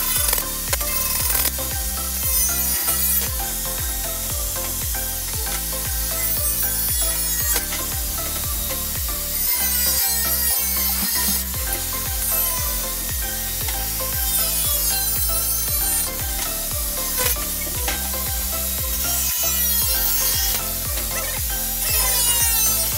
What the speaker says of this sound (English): this is the proper way of cutting cable tray 45 degrees offset by using grinder